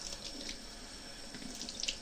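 Water pours from a tap into a bowl of kefir with walnuts, a faint, steady splashing hiss lasting a couple of seconds with a few small drips, no talk.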